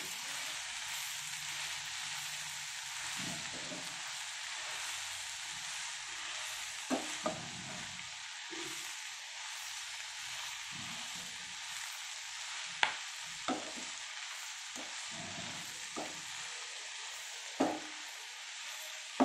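Fenugreek leaves with chilli powder sizzle steadily in a pan while a spoon stirs them, a constant close frying hiss broken by scattered sharp clinks and scrapes of the utensil against the pan.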